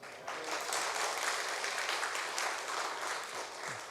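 A church congregation gathered for Sunday worship bursts into steady applause that lasts several seconds and comes across as a broad, moderately distant wash of clapping with no speech over it.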